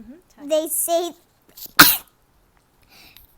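A sharp, loud single sneeze from someone nearby, preceded by a person speaking briefly, with quiet faint sounds afterward.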